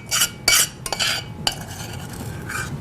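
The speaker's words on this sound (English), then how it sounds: "You might want to scrape that out with your spoon." Metal spoon scraping out a mixing bowl of cinnamon roll dough, heard as several short, close, bright clinks and scrapes in quick bursts, then quieter.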